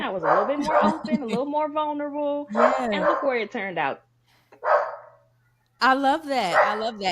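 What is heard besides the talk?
dog barking, Lucy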